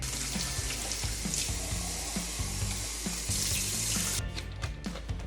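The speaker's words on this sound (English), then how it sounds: "Run it under water, give it a wash." Water from a tap runs steadily over a Dyson vacuum filter being rinsed, a continuous splashing hiss with soft knocks of handling, cutting off near the end.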